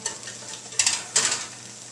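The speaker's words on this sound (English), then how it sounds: "Definitely some sizzling." Hot roasted asparagus with garlic, just out of the oven, giving off a soft continuous sizzle with two brief louder hissing bursts close by.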